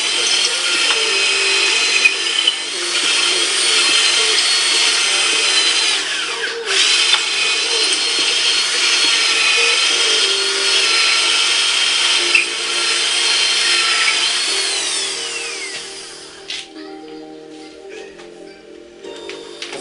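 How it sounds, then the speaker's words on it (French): Power drill boring into very dry wood, a loud strained whine that holds steady for most of the time, dips briefly twice, then winds down and stops near the end. "Le bois elle est tellement sec que j'ai du mal à percer dedans."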